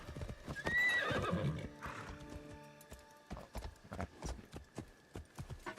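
A horse in the video game Assassin's Creed Shadows lets out a loud whinny, then its hooves clip-clop in a steady rhythm that fades slightly.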